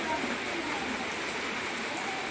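A steady, dense hiss of heavy rain pouring down, constant and close throughout.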